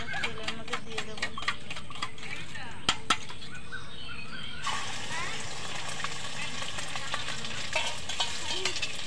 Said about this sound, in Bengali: ডিমটা তেলের মধ্যে দিয়ে দেবো